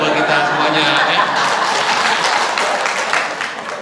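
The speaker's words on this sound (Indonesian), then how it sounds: "tepuk tangan dong buat kita semuanya" A church congregation applauds together at a saint's feast celebration, steady dense clapping close and loud throughout, with some chuckling mixed in and a slight fade at the end.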